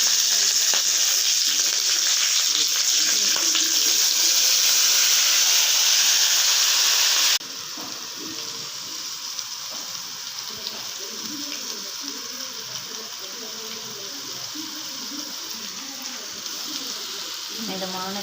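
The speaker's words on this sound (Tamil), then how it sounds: "இப்போ இது போட்டு அப்படியே போட்டு நம்ம ஃப்ரை பண்ண போகிறோம்." Marinated chicken for a ghee roast sizzling in a pan, loud hissing fry at first that drops to a softer steady sizzle partway through, with a voice talking over it.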